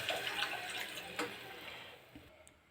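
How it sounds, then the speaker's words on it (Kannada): A glass of water poured into a pan while making upma, a faint splashing and running-water sound that gradually fades, with a few small clinks and no talk. "2ನೇ ಗ್ಲಾಸ್ ನೀರು ಹಾಕ್ತಾಯಿದ್ದೀನಿ."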